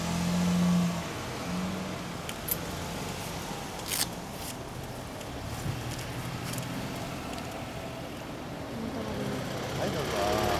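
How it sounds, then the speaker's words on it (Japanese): A Yamaha SRV250 motorcycle engine runs steadily at close range with a low, even idle drone, and a brief higher clatter rises near the start. "エンジン音取ります。"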